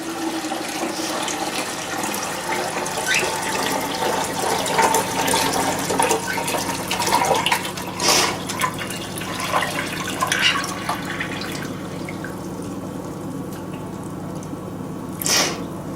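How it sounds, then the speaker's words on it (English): Canal water pours through a small sieve into a sink, a continuous splashing trickle with drips, fairly close and without talking. "fill it in the sink the same way I normally would"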